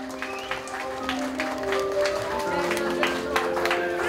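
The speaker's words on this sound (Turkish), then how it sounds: "güzel bir alkış alalım." Wedding guests applauding at a cake-cutting celebration, scattered claps under steady music with sustained tones, and people talking nearby throughout.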